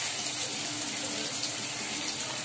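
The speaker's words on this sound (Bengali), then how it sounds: "তো পেঁয়াজগুলো আমি এরমভাবে ভেজে নেবো, তার সঙ্গে টমেটো কেটে রেখেছিলাম সেগুলোও দিয়ে দিলাম" Onions and tomatoes fry together in a pan for a vetki fish curry, giving a steady, dense sizzle that holds evenly throughout with no one talking.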